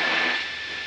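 A small plane's engine drones steadily as the throttle is pulled back, a continuous buzzing hum that eases slightly in loudness over a brief moment, heard from inside the cockpit.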